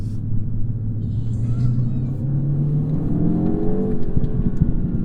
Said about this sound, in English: just a little bit of spirited driving for you